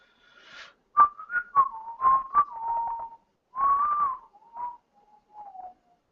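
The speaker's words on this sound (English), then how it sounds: "Probably shouldn't whistle since we're live." A person whistles a wavering, melodic tune up close, a string of short pitched notes and sliding phrases with brief pauses between them, clear and alone against silence.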